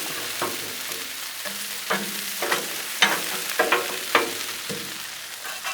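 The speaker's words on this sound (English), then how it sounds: "I can just throw it on the griddle, and as you see, it's already starting to steam from all that ice and stuff that was in the bag" Frozen broccoli sizzles and steams on a hot Blackstone griddle, with a steady frying hiss broken by repeated scraping and stirring strokes of a spatula.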